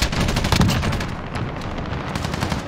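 A PKM light machine gun in Modern Warfare fires a rapid, loud burst of rattling shots that stays close and dense for the whole stretch, with no speech over it.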